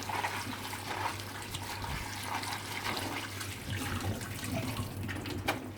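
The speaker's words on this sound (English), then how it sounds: "I'm just going to give it a quick wash, not enough time to soak up any water" Tap water running steadily over salted cabbage in a kitchen sink, a continuous close splashing and trickling with a faint hum underneath.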